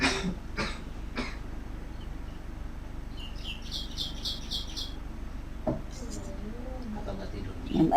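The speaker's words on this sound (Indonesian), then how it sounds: "Ini batuk aja dari tadi." A person with a persistent cough lets out a few short, close coughs in quick succession at the start, then the room goes quiet apart from faint chirping birds and one more small throat sound.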